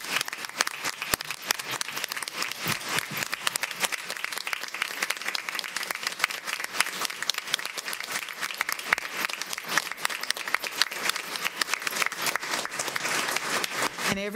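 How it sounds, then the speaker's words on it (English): An audience at a school board of education meeting applauds for school security staff, a dense, steady round of clapping that holds from start to finish with no talk over it. "Let's give them a round of applause as well."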